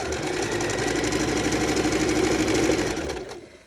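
A sewing machine hums and rattles steadily while stitching a quarter-inch seam on fabric at a folding table, running close and loud before slowing to a stop.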